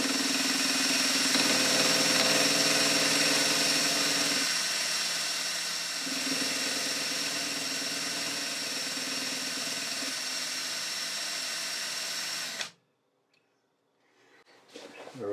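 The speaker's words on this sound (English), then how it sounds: "on the other end is a 10 volt electric drill" A 10 volt electric drill plunging about half a millimetre into metal to form a hexagon while making a broach: a steady motor whine runs loud and continuous, then cuts off abruptly near the end, followed by faint handling noise.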